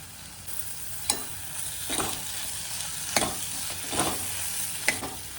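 Green peas stirred into a frying pan with mashed boiled potato for set dosa filling: a steady low sizzle with several sharp scraping strokes of a spatula spaced about a second apart, close and fairly quiet, no talking.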